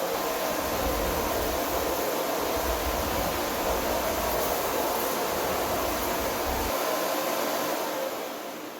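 Miele C1 Classic canister vacuum cleaner running on its carpet setting, a loud, steady broadband whoosh of suction held evenly for about eight seconds before easing off at the end.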